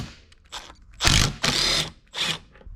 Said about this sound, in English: we're going to take our 1/2-inch socket, back this boy right out of here